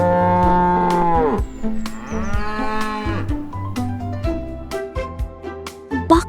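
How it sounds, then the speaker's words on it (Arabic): A cow lows several times in long, drawn-out moos, loud and close, the calls sliding in pitch and overlapping one another with short breaks between them. "بقرة"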